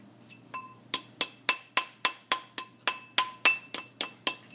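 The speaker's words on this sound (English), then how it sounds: "Using the soft hammer, we're going to slowly pound" Soft hammer pounding metal on a ring mandrel during metal fabrication: a steady series of about fifteen evenly spaced ringing blows, starting lighter and growing louder, close and alone.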